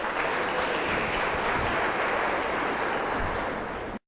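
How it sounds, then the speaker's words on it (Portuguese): Continuous applause from a church congregation, a dense even wash of clapping that holds steady and then cuts off abruptly. "Aplaude o Senhor."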